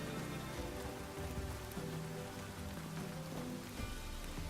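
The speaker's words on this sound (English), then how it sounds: "When was the last time it wasn't raining?" Steady rain patters over the natural outdoor surroundings of The Witcher 3: Wild Hunt, a dense, even hiss of drops on surfaces that continues without a break.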